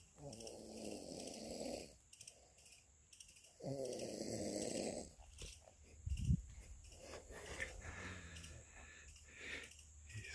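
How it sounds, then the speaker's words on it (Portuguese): A man snores aboard a fishing boat during a corvina fishing trip, long rasping breaths in a slow repeating rhythm, close and fairly quiet, with a brief louder thump midway and no talk. "O cara tá até roncando aqui, ó."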